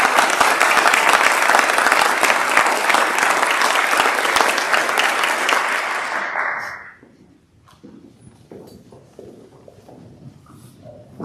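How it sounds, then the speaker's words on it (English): Audience at a Board of Education meeting applauds students with loud, sustained clapping for about six seconds, then it fades quickly, leaving room noise and a few faint sounds. "Let's give a huge round of applause to all of them."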